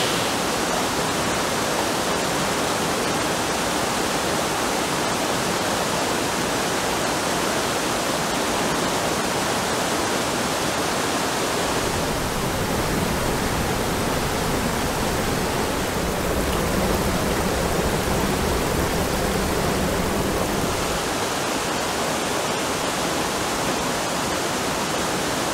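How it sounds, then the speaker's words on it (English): A river waterfall and rapids roar in a dense, constant rush, loud and close throughout on an overcast day, with no voices. "shooting an area that's kind of some falls, got some rapids in it"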